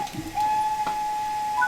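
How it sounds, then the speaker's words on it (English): A steam whistle from a Fowler 4F locomotive in a British Railways train simulator game, one steady, thin high tone held for more than a second amid low background rumble. "Nice whistle. I do like the sounds on the Fowler 4F."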